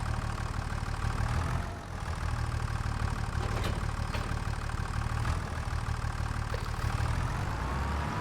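A tractor engine idles in Farming Simulator 25, a steady low rumble with a mid-range mechanical drone that runs continuously and loudly throughout, with no voices.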